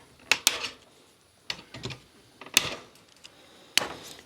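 Sharp, isolated snips ring out as a wire fence around a chicken moat is cut back, four or five crisp clicks spaced unevenly over a few seconds against a quiet background.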